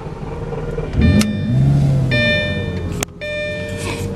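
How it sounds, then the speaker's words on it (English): A 2005 Lamborghini Gallardo engine, a salvage car with its check engine light on, cranks and fires up with a sharp roar, then settles into a steady idle, with clicks and beeps around it. "We'll go ahead and start up the car."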